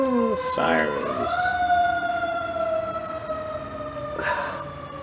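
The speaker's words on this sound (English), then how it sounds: "Sirens." Emergency vehicle sirens wail past, rising and falling tones sweeping close then receding, with a second siren surge near the end over faint background noise.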